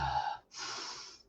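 One deep breath taken during a grounding exercise, a close inhale followed by a longer audible exhale, heard alone.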